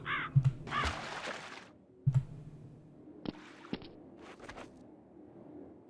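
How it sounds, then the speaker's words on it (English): Crows cawing on a Counter-Strike map, a few harsh separate caws at moderate distance over quiet ambience, mixed with brief splashy and swooshing game sounds. "Wish the crows would shut up."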